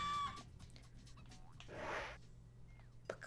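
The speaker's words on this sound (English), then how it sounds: "Chicken again." A chicken clucks and squawks in the video game Johnny Bazookatone, a brief burst of fowl calls over soft background game music and low ambient hum, moderately quiet.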